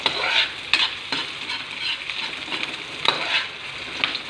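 Garlic and aromatics sautéing in hot oil for tilapia paksiw, a loud continuous sizzle broken by rhythmic scraping strokes of a spatula against the pan, close by with no voices.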